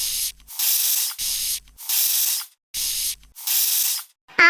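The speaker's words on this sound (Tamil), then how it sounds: "இந்த ப்ளூபெர்ரி ஸ்ப்ரேயர் வந்து ஸ்ப்ரே பண்ண போகிறேன்" A blueberry face mist sprayer lets out four short, close hissing bursts of spray in an even rhythm, with brief pauses and faint clicks of the pump between them.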